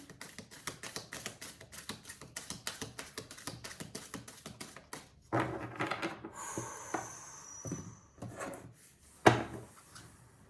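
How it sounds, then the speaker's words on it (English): Tarot cards are shuffled in quick, even riffles for about five seconds, followed by softer rubbing, tapping and handling sounds. The sound is close and quiet, with no talking. "Shuffling for Capricorn."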